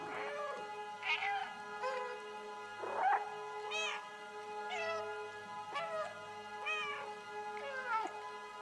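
A cat in the video game Stray meows repeatedly, about eight plaintive calls spaced roughly a second apart over a steady electronic hum.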